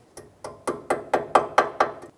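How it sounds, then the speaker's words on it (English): Small hammer tapping to flatten a bent metal tab on a Mazda CX-9 lower control arm, eight crisp metallic taps in steady rhythm, growing slightly louder, close with no talk. "just grab a small hammer or something and just flatten that down"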